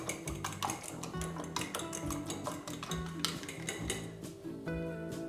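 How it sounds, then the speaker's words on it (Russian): Eggs mixed with dried basil are whisked in a bowl, producing rapid, close clinking and scraping of a utensil against the dish in an uneven rhythm, with soft music underneath. "Добавляю к яйцам чайную ложку сухого базилика. И хорошо взбалтываю."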